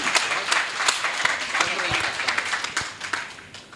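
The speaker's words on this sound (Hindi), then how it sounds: "सारे सदन की तालियां चाहती हूँ एक बार" A hall audience breaks into applause, many hands clapping in a busy, slightly uneven patter that gradually thins toward the end, with some voices mixed in.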